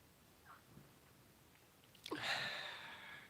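One sudden, fairly loud human sneeze bursts out after a quiet stretch and fades away over about a second against a faint room background.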